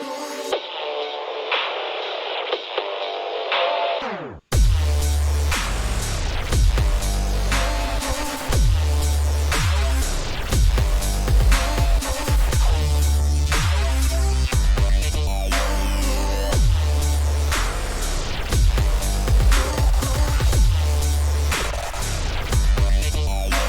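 Electronic music double drop, opening with a thin, filtered, telephone-like band-limited section, then bursting into a full, loud, dense drop with heavy bass and pounding beats, reverb and bit-crushed grit throughout.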